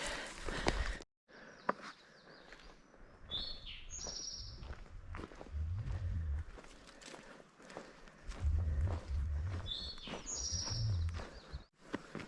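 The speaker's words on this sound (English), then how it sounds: "Birds sounding awesome," Birds sing and chirp on a sunny morning along the Appalachian Trail, with bright calls scattered over soft footsteps and low rustling nearby, continuing steadily throughout.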